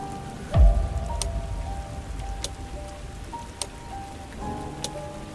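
Steady rain falling, a soft, even hiss of drops on surfaces with occasional louder drips and a brief low thump near the start, calm and unbroken.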